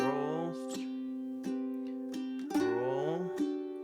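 An acoustic guitar plays a song's rhythm with a melody roll: ringing chords struck in a slow, even pulse with sustained notes and a brief melodic roll, quiet and close.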